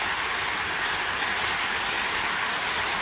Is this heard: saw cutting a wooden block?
no